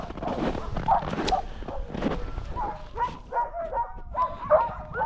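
Sled dogs in the Arctic bark, yip and whimper in an excited, irregular chorus, several dogs close by and loud, with brief rhythmic bursts throughout.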